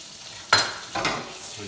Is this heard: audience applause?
no